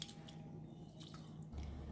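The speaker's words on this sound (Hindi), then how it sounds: "जब आप चावल को वॉश करेंगे ना, उसको हल्के हाथों से और इस तरह से वॉश करें।" Rice grains are gently rubbed and swished by hand in a bowl of water, producing soft faint drips and squishy splashing sounds close by.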